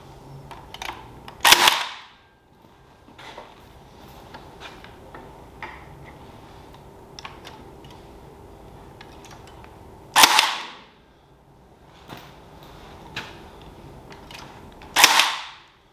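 A DeWalt electrician's cable stapler fires staples into cable, giving a few loud, sharp snapping shots spaced several seconds apart, with small ticks and handling noise between them, close up and without talk.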